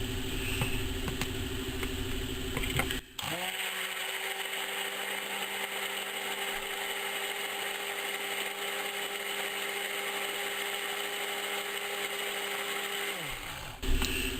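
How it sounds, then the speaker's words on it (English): A steady mechanical whir of an immersion blender mixing soap batter runs continuously for about ten seconds, starting and stopping abruptly, with a constant droning hum. "My stick blender is making all kinds of bubbles."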